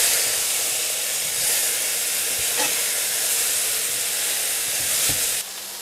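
Beef sears in a hex plate pan for a stovetop beef stew, a steady loud sizzle and hiss of frying meat with a few brief clatters of turning, the sizzle dropping slightly at the very end.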